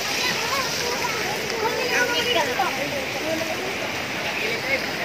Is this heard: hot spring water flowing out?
yes